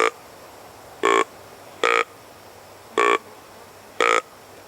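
Five short, nasal grunts from a deer grunt call imitating a 1.5 to 2.5-year-old buck, evenly spaced about a second apart, loud and close with quiet pauses between.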